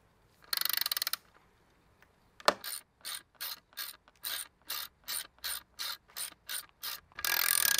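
Ratcheting clicks from a press tool tightening a Shimano Pressfit bottom bracket into a bicycle frame, heard as a steady series of about a dozen close, evenly spaced bursts after a brief initial rasp.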